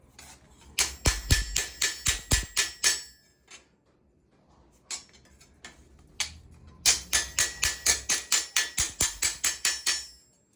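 Hammer blows on a Damascus stainless knife blade being straightened, a near, loud run of quick ringing strikes in rapid series, then a pause with a few scattered taps, then another long fast volley of metallic blows.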